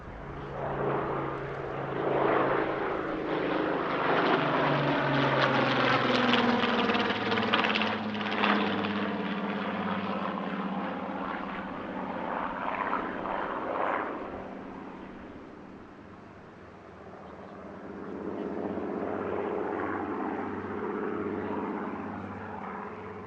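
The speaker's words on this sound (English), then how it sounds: "A second BBMF display later in the day paired the Spitfire 2A with a Spitfire" At the RAF Cosford Air Show, a Spitfire 2A and a Spitfire PR-19 fly a display, their piston engines droning loudly in a long pass that fades and then returns as a steady roar.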